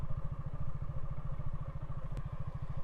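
A motorcycle engine running steadily with a regular low thumping pulse and some mechanical clatter, close and continuous, in a village setting in Goalpara, Assam.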